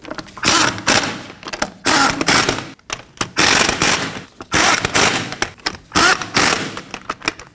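Lug nuts on a Ford Edge wheel are run down with a power tool in a star pattern, giving loud, rapid rattling bursts that stop and start in repeated runs with short gaps between.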